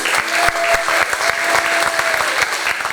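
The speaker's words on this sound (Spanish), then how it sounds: "un aplauso, Luis." A church congregation at a youth ministry pre-congress in Lomas de Zamora, Argentina, claps loudly, with sharp individual hand claps standing out in a close, busy rhythm over a sustained tone.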